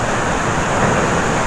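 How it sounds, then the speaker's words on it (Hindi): Indus River water rushing through Jinnah Barrage, a steady broadband roar with no breaks, loud and close, like heavy surf or wind. "पानी का शोर आपको सुनाई दे रहा होगा"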